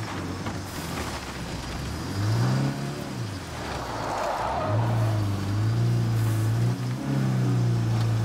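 Car driving in State of Decay, a steady engine drone swelling and easing as it accelerates and shifts, with a rough whirring undertone, continuous and loud with nobody speaking.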